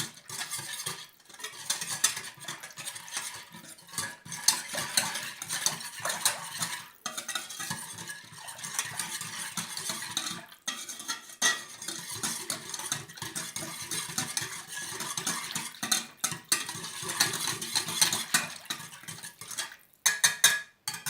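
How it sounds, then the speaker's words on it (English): Orange chicken sauce being stirred and mixed, with a utensil scraping and clinking against a pot or bowl in a steady, continuous rhythm, fairly close and moderately loud, with no talking. "So now we're going to start mix everything together"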